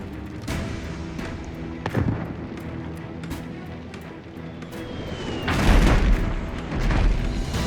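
Ship cannons firing in the naval combat game Abandon Ship, a series of deep booms at irregular intervals, with a louder cluster of heavy blasts near the end over steady game background noise.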